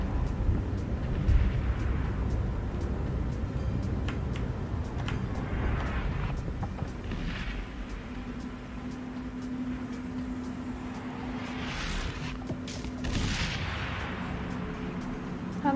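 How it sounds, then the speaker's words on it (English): Explosions and shockwaves from the video game INSIDE, heard as a rumbling, distant war-like barrage with repeated dull thuds and booms over a continuous low roar, and a few louder blasts partway through. "Like there's loud explosions and shockwaves."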